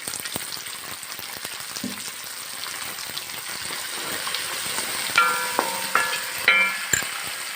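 Shallots frying in oil with turmeric, a light crackling sizzle under scattered ticks, joined near the end by several sharp clanks of a utensil against the pan.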